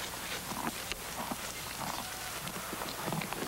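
Horse hooves clop in an irregular rhythm of soft hits over a steady noisy background, faint and somewhat distant, in a 1987 northeastern Brazilian film scene.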